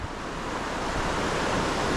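Low winter river running slowly, not frozen over, at a camp spot during a storm: a steady broadband rush of water with some wind noise, close and continuous, with no voices.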